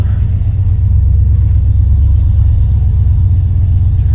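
An 1987 Chevrolet Monte Carlo SS Aerocoupe's engine rumbles steadily and loudly from inside the cabin on a test drive, a constant low drone of driving with no voices.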